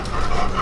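A dog pants in quick, rhythmic breaths close by, breathy and moderately loud through a short stretch with no talking.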